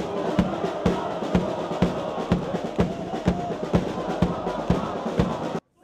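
A large crowd of marchers on a unity march in Ivano-Frankivsk, with flares and firecrackers along the route, chanting rhythmically in loud unison, each beat punctuated by sharp claps or bangs.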